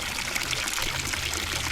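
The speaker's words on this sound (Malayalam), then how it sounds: "ആ കാണുന്ന വെള്ളച്ചാട്ടത്തിലെ വെള്ളമാട്ടോ ഇത്" Water from a waterfall runs in a steady trickling pour, close and continuous for the whole stretch, with no voices over it.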